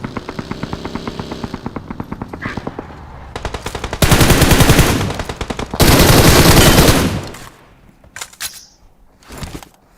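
Gunfire in a shooter video game: loud, rapid automatic bursts with sustained fire and a few separate shots near the end, no talking.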